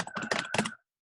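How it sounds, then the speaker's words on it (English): Rapid clacky keystrokes on a computer keyboard, a quick cluster of sharp close clicks lasting under a second, then silence. "I like how clacky your keyboard sounds"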